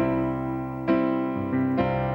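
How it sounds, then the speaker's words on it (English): A keyboard plays a sustained suspended chord, then shifts to the resolved chord, with a few clean chord changes ringing out alone. "That's a sus chord resolving to the normal chord."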